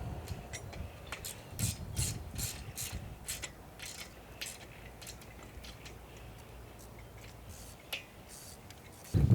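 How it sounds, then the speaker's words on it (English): A fence top rail connector is tightened, giving a run of quick metallic ratcheting clicks and ticks, close and fairly quiet, with no talking. "now we'll tighten the top connector, which we know will keep the fence straight and in line"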